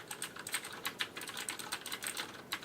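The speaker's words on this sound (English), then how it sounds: "you can clearly hear that I'm typing on the conference call" Typing on a HyperX Alloy FPS mechanical gaming keyboard, rapid clicky keystrokes in an uneven rhythm, close and fairly quiet, with no talk.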